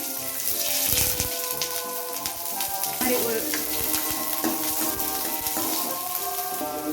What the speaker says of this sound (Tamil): எண்ணெய் நல்லா சுடனதுக்கப்புறம் கட் பண்ணி வச்ச பெரிய வெங்காயமும் நல்லா வதக்கி சேர்த்துக்கிறோம்